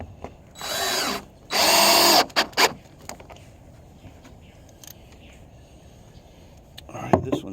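A cordless drill drives screws into pressure treated lumber while a back deck is repaired: two close, loud whirring bursts with a short stutter, quiet pauses, then a brief final burst.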